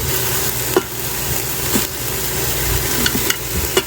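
Chunks of chuck roast beef browning in a hot pot, batch by batch, give a steady loud sizzle and fry with occasional sharp clicks and taps of a utensil stirring the meat, heard close with no talking.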